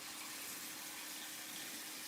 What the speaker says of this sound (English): Just putting water in here so that we're able to boil it.